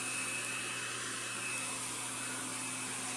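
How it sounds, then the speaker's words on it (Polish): Constant loud whirring drone of a Parkside electric garden blower vacuum with built-in shredder running steadily with a faint tonal hum, no voices. "czyli mamy dmuchawę, odkurzacz oraz wbudowana funkcja rozdrabniania."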